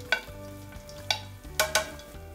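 Oil in a frying pan hissing softly as vongole clams are stirred through it over low heat, with a low steady sizzle broken by a few clattering stirs and scrapes.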